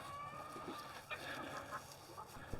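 Hens of several breeds clucking softly on an open pasture, with scattered short calls and murmurs over a quiet background.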